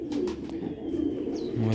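Sialkoti pigeons coo steadily in a loft with a breeding pair and chicks, low throaty calls rolling close by and overlapping, a deeper burst rising near the end.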